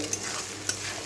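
Food frying in oil until deep red, heard as a brief, steady close sizzle with two sharp stirring taps.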